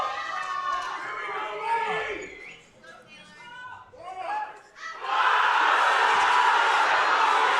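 A crowd at a weightlifting competition, the CANPL Westerns 2025, shouts and whoops during a lift, then breaks into loud, sustained cheering and applause that fills the final seconds.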